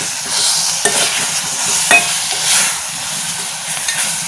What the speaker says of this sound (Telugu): బాగా మగ్గిపోతున్నాయి కదా స్మూత్గా అయిపోయినాయి ఆనియన్స్ అయ్యాయి